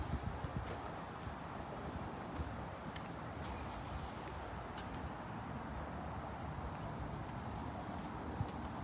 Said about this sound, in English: Just like the wind that's passing on through right now.